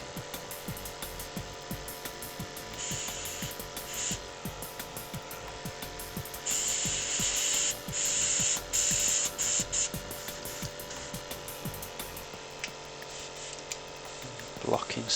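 An airbrush sprays paint onto a miniature figure, giving intermittent bursts of soft, steady hissing of a few seconds each over a constant low electrical hum.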